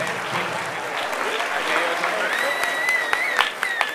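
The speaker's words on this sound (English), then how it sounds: "big round of applause for ActionAid." An audience claps for the runner-up at a non-profit video awards ceremony, a steady ripple of applause with a few sharper individual claps standing out near the end, while voices talk over it.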